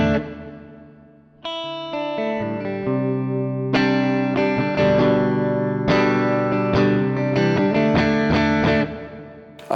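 An electric guitar played through a Tech21 Richie Kotzen RK5 pedal with reverb: ringing chords and sustained notes with a long reverb tail and slight distortion, building in layers and continuing without pause.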